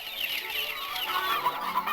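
Poultry calls from a 1990s Korean TV commercial for a clean chicken farm, a busy overlapping flock chatter of clucks and squawks running continuously and fairly loud, with no talk.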